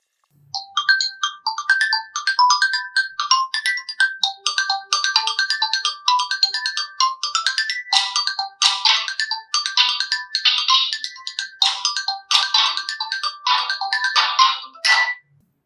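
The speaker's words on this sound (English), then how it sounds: "changed the boot sound of our smartphone" A custom boot sound plays on a Poco smartphone during a reboot, a busy melodic chime sequence of rapid tonal notes that runs continuously for about fifteen seconds, close and clear with no talking.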